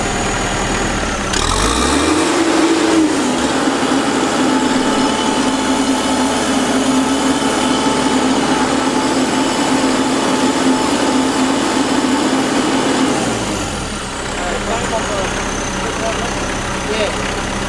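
A Kubota tractor engine climbs from idle to a high, steady rev, holds there loud and close for about ten seconds, then drops back down to idle.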